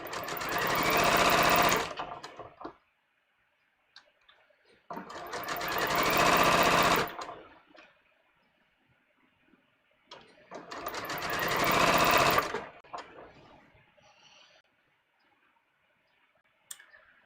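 A sewing machine runs three fast bursts of stitching along the last side seam of a garment, each a couple of seconds long, separated by quiet pauses with faint clicks and handling noises.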